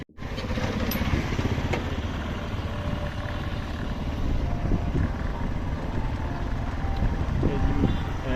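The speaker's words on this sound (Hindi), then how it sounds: "बाइक चला रहा हूँ" Motorbike engine droning steadily while riding along the Daska canal road, a continuous close hum with road and wind noise, no talking.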